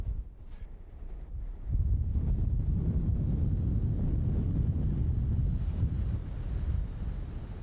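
Strong wind on the summit of Ben Vrackie, a Scottish mountain, buffets the microphone in a low, rumbling roar, briefly easing before surging back into a steady, gusty blast with no voices.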